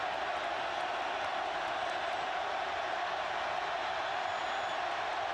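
A packed college football stadium crowd at LSU versus Auburn rumbles with a steady, distant wash of boos and murmurs that neither rises nor falls.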